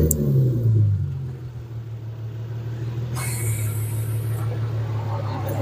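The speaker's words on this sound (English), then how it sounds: "Just click it 3 times. It's gonna turn on the car." Nissan 370Z engine starts by remote start, a loud low rumble that swells briefly and then settles into a steady idle with a faint whine.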